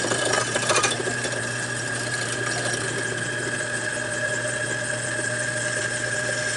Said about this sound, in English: So I'll just drill that now.